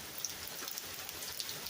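Steady rain falls in Texas as a dense, even patter of drops hitting surfaces, continuous and fairly close, with no voices.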